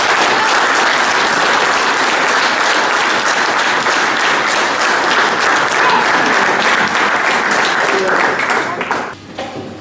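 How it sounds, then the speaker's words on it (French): Sustained, loud audience applause at a club barbecue gathering, dense clapping filling the whole stretch before tapering off near the end, with faint voices mixed in. "Je pense déjà que pour ça, on peut t'applaudir."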